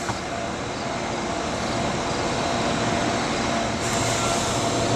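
A passenger train on the former PRR Octoraro Secondary line rolls slowly to a full stop, a steady loud rumble of wheels and machinery with a hiss rising near the end, heard up close without talk.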